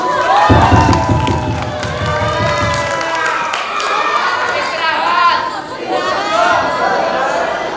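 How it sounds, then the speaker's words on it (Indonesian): An audience at an election campaign rally cheers and shouts, a loud swelling wash of many voices with whoops, briefly mixed with low music near the start. "boleh minta tepuk tangan lagi dong yang meriah dong"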